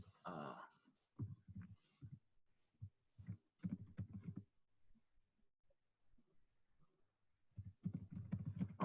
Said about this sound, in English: So what I'm typing in now is I'm typing in